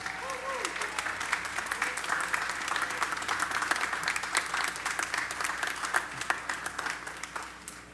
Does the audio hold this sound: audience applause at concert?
yes